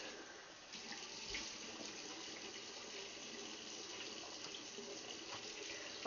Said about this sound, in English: I'm rinsing.